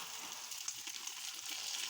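Makki ki roti cooking in desi ghee on a hot tawa gives off a faint, steady sizzle and crackle, close by and uninterrupted, with no talking.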